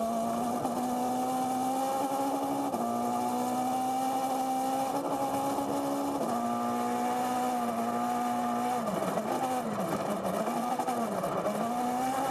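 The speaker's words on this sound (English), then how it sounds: "I quite like just to hear the car" Onboard sound of Neuville's four-wheel-drive rally car on a loose stage in Scotland, the engine holding a loud, steady high note with quick gear changes and revs dipping and climbing toward the end.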